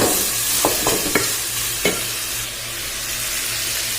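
Gizzard and chicken feet adobo being stirred in a pan with oyster sauce, a spoon scraping and clacking several times against the pan over a steady, close sizzle.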